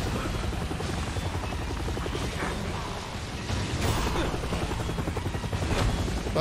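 A helicopter in the video game Resident Evil 6 churns with a heavy, continuous rotor rumble and mechanical clatter, loud and close, with occasional creaks and bangs mixed in.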